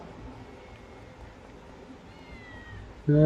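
A cat in the video game GTA V gives a single loud, close meow right at the end, after a few seconds of quiet, low background noise.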